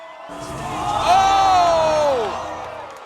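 A crowd cheers and whoops at a DDR dance game tournament, a swelling roar that peaks midway and then fades. A rising shout stands out above the cheering.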